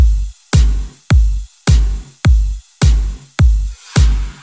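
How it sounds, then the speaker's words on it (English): A MusicCore sample-pack loop layered with electronic kick and snare in a dance track: eight steady, evenly spaced punchy hits with booming lows and bright snappy tops, loud and rhythmic with no voices. "I'm also introducing this sample from the MusicCore sample pack,"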